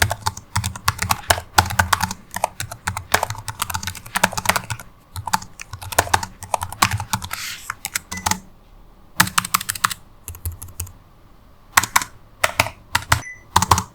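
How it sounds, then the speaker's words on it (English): Rapid typing on a Lenovo Yoga 7i laptop keyboard, close and crisp, with bursts of clicking keys separated by brief pauses; no voices. "here's a quick keyboard sound test for you guys"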